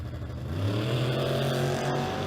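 A race car engine revs loudly and close, rising in pitch as it accelerates, a continuous roaring tone that fills the whole moment with no voices.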